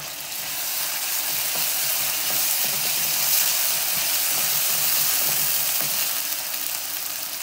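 Onions frying in a pan for an Indian green beans sabzi, a steady close sizzle with soft crackling that holds evenly throughout, with no talk.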